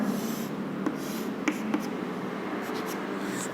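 A pen scratches out equations by hand in a continuous stream of close, soft scribbling strokes, with a few sharper taps between them.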